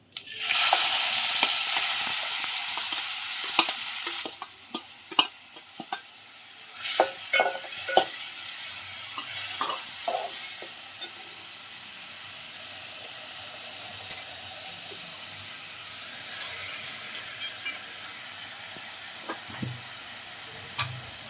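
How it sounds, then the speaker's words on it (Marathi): A masala tempering of green chilli and curry leaves ground together bursts into a loud sizzle in a hot pan, then fades to a softer frying hiss. Intermittent spatula scrapes and clinks come as it is stirred. "आता आपण याची फोडणी देणार आहोत."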